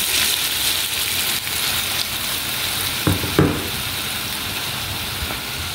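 A pan-fried Filipino dish, with a little broth just added, bubbles and hisses steadily up close, with a couple of brief clinks from a utensil partway through.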